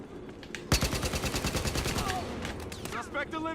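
An ARM assault rifle with a light machine gun magazine fires in Battlefield Hardline, a rapid sustained burst of evenly spaced shots that opens with a sharp crack, close and loud, with a voice talking over part of it.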